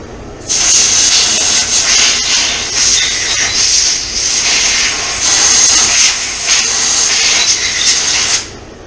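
Compressed air blows out the bolt threads on the body of a 1989 Kawasaki KX250 dirt bike, a loud close hiss in two long sustained bursts that start and stop abruptly, with no speech.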